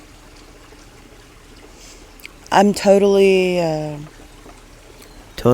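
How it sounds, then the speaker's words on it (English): Water runs steadily outside a tent pitched in a backyard, a soft continuous trickle close by under a single loud spoken word. "there's running water outside"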